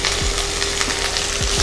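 Sliced onions sizzle in hot oil in a pan for a Kerala-style mutton stew, giving a loud, even crackling hiss with a few brief scraping stirs and no talking.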